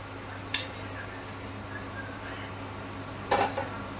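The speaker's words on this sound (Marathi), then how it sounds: "सो आता हांव घालता गाजर जे आमी स्मॅश करून घेतला ते घालून घेता" Mashed carrots for sugarless carrot halwa are scraped into a pan, with two sharp metallic clinks of a spoon against cookware over a steady low background hum.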